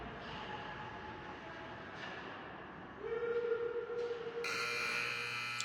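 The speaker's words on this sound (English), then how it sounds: "And there's the buzzer." End-of-period buzzer at an amateur hockey game, a loud sustained electronic tone that cuts in over rink ambience and holds steadily, joined by a brighter harmonic layer near the end.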